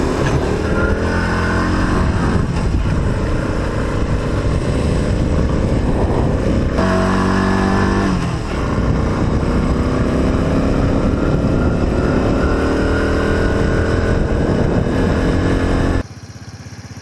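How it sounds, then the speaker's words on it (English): A Honda CT110 Postie motorcycle climbs a steep hill out of camp in first gear, its engine droning loud and strained without letup, pitch rising and dipping slightly as it labors, ending abruptly near the finish. "So we're pretty much in first gear, climbing up this steep as fuck hill straight out of camp"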